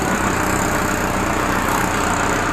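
A JCB 3DX backhoe loader's engine runs steadily while the bucket is worked among large rocks, giving a loud, continuous close-up drone with no voices.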